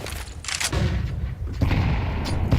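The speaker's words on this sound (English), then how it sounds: "Nade does damage." A grenade bursts in Counter-Strike 2 during a competitive match on a smoke-filled bombsite: a loud, close blast followed by a second rumbling boom, with no talking.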